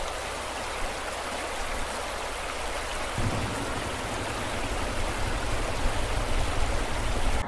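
The Solu river rushing beneath a bridge in the Solukhumbu hills, a continuous broadband roar of turbulent water that stays steady and close throughout, thickening slightly in the low end partway through, with no voices.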